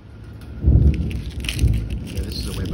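A big electrical storm at night, with heavy rumbling thunder and steady rain. Loud low booms surge and roll twice over a constant wash of rainfall.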